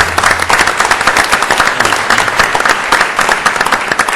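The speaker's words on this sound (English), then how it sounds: "Please give these gentlemen a round of applause." An audience at an Orlando city council meeting applauds loudly, a dense, continuous patter of many hands clapping for about four seconds.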